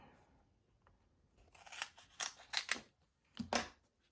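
Scissors snip through a foam adhesive sheet while trimming it for card making, giving several crisp, close cuts in quick bursts after a quiet start, with no talking.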